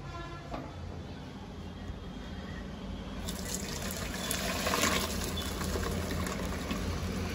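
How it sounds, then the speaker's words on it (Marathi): Water from boiled pasta pours out through a strainer, a steady rushing splash that grows louder and fuller midway and continues to the end, close and without voices. "आता ह्याला मी पाणी गाळून घेते"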